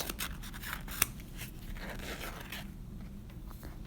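Scissors snip through a glitter foam letter in a run of close, crisp cuts, with one sharper snap partway through and quieter trimming toward the end.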